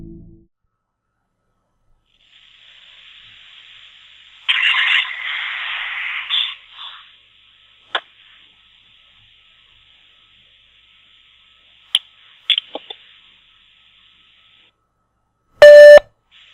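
A telephone call to a number tied to a mysterious website: a steady electronic tone with a hissing, noisy stretch partway through, scattered clicks and a loud, sharp burst near the end.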